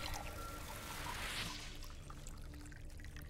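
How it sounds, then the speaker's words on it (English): Liquid serum pours into a reservoir in the video game Wasteland 2, a faint steady trickling wash that swells briefly and then tapers, with no talking. "You pour the serum into the reservoir"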